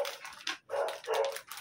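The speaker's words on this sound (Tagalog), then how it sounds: "Tatahol na yung aso." A dog barks indoors in a home during a gift unboxing, giving several sharp, close barks in quick succession with short gaps and a slight whimpering edge.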